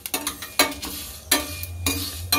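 Mango pickle spices are fried and stirred in a pan at home, with a spoon scraping in repeated, uneven strokes over a faint sizzle. No one speaks.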